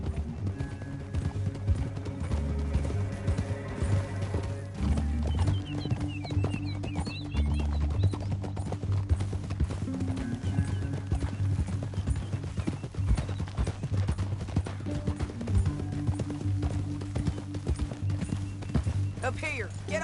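Rhythmic clip-clop of horse hooves galloping steadily throughout, with voices talking over the hoofbeats and a game-like soundtrack beneath, in the video game Red Dead Redemption 2.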